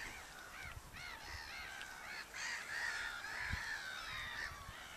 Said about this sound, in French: Donc là on entend surtout des mouettes.